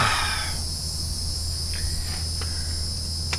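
Steady high insect chirring with mosquitoes fills the outdoor air, a continuous buzzing drone with faint traffic-like rumble underneath and no voices.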